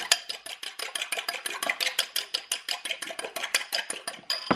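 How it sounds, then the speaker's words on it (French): A fork mixes tuna tart filling in a bowl, rapid rhythmic clinks and scrapes of metal against the bowl repeating about five times a second, close and crisp with no talking. "Je prends la même fourchette. Hop. On mélange le tout."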